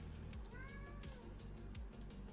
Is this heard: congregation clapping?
no